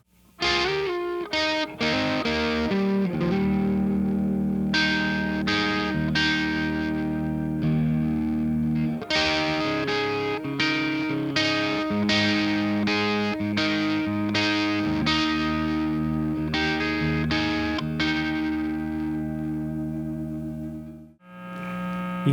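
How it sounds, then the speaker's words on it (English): Electric guitar with humbucker pickups played through a Decade pedal at high gain, heavily distorted chords ringing out in bursts with sustained hum between them, loud and alone before a brief cut at the end. "You hear that humming? That's right, baby, we're going into high gain territory."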